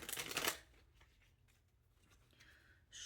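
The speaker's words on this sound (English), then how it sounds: "Shuffle and cut and cut and cut." A deck of cards riffle-shuffled in one quick burst at the start, then a few faint soft cuts and taps, with a brief rustle near the end.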